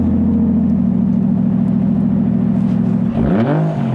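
A car with a Toyota 1JZ-GTE engine idles with a loud, steady rumble up close, then the revs rise sharply near the end before dropping back.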